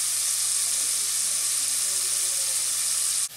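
Chicken wings frying in a pan, giving a steady, faint hiss of sizzling oil that continues evenly without pause until it cuts off abruptly at the end.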